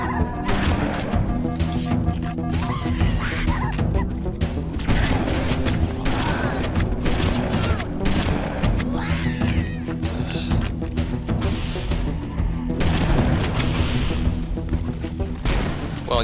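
Grenade stash blowing up in Halo: Combat Evolved amid a firefight, with a long run of loud booms, crashes and gunfire overlapping continuously, and voices shouting now and then beneath the din.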